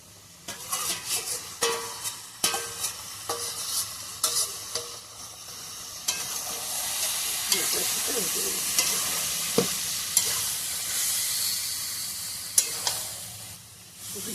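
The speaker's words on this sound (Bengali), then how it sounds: "এবারে আমি ভেজে রাখা এই মাছের ফুলগুলো দিয়ে দেবো" Fried fish pieces go into a pan of jackfruit curry. Sharp stirring knocks come first, then a rising, steady sizzle builds, with occasional clinks of the spoon against the pan.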